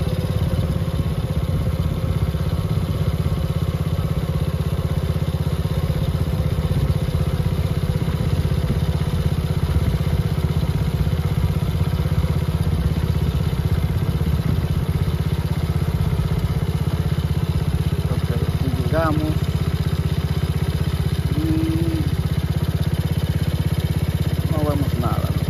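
A motor runs steadily and close, a continuous mid-pitched drone that holds for the whole stretch, with a faint high whine above it and a few brief chirps late on.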